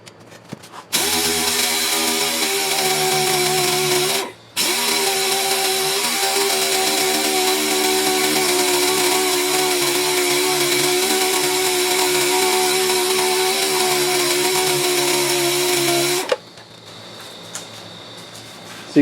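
A DA sander works fiberglass body panels on a Firebird, a loud, steady high-pitched whir running nearly continuously for about fifteen seconds, with one brief pause early on and a quieter tail at the end.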